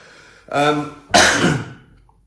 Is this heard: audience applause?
no